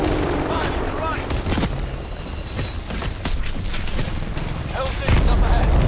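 Dense, continuous gunfire and explosions from a Call of Duty: Advanced Warfare campaign battle, loud sustained volleys with heavy low booms, and a voice speaking over the combat.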